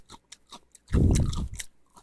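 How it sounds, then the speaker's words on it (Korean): Close, loud crunching as pickled radish (danmuji) is chewed, a burst of heavy chomping lasting about half a second with fainter mouth clicks before and after. "그냥 씹는 소리 아니야? 단무지를 존내 씹고 있는"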